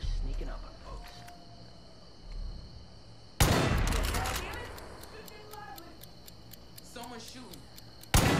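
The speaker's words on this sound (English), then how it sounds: "Someone's shooting." Gunfire breaks out at night in Far Cry 5, opening with a sudden loud crack followed by scattered, fainter shots echoing across an otherwise quiet outdoor ambience, with a voice speaking before it starts.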